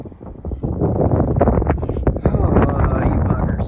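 Strong wind buffets an outdoor microphone in gusty, low rumbling bursts, with someone talking over it while working on a broken collar.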